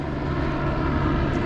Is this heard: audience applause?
no